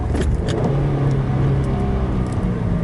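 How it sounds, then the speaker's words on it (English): A car engine revs steadily and loudly up close, with a brief blip in pitch during a rev-matched downshift from second to first gear. "I have gotten a lot better at rev matching in this car and downshifting"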